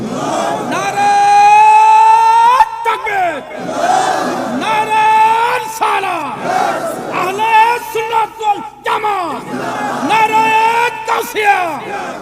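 A large crowd at an Islamic sermon gathering roars takbir in unison in response to a preacher, several loud, rhythmic massed shouts repeating in waves with brief gaps between.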